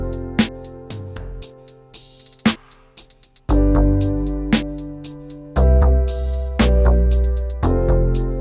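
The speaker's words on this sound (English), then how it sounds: "I'm hearing this like really fat synthy bass" A fat, rhythmic synth bass patch called Front, from the Nexus 3 ROM Extensions 2 bass folder, plays a repeating pattern of loud, sustained low notes with sharp percussive hits layered on top.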